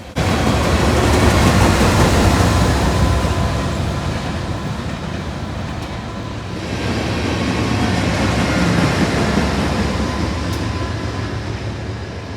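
A freight train rumbles steadily past at close range, including a Santa Fe boxcar, Cyro Trans reefer cars and a BNSF GEVO locomotive at the rear, a loud continuous roar of wheels and cars with no voices.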